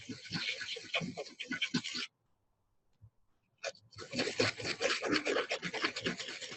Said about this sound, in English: fine sandpaper works better than coarse sandpaper, because coarse sandpaper can just tear up the carbon fiber